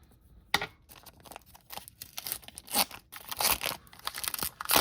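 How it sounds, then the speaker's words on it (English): Close crinkling and tearing of plastic packaging on a Pokémon Venusaur EX and Blastoise EX Premium Collection, with sharp scissor snips in between, irregular bursts of rustling that grow busier toward the end. "We get the scissors."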